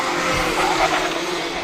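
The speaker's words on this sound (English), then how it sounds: "That's going to be Jack's racing car, and this looks like the battle for 8th place" Racing karts at a UK club circuit meeting roar past under braking, engines buzzing loudly with a squealing tyre skid in the middle, continuous and close, no talk heard.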